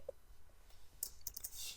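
A few quick, faint mouse clicks come in short pairs from a computer mouse, sharp and close in a quiet room.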